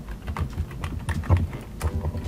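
Someone types on a computer keyboard at a slow, uneven pace, and a series of soft, close key clicks come in irregular bursts with short gaps between them.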